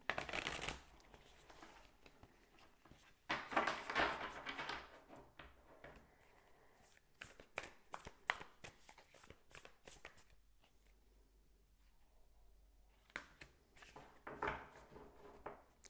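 A Medieval Tarot card deck being shuffled close by, with repeated riffling and flapping bursts of cards separated by quieter pauses.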